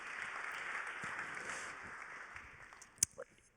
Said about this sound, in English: Je demande des applaudir très très fort Didier Drogba et Joël Bouzou